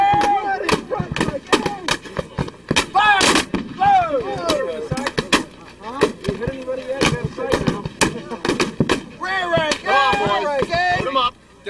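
Musket and cannon fire crack through a Gettysburg battle reenactment in a rapid, irregular string of sharp, loud bursts. Shouted commands and voices run underneath and between the shots.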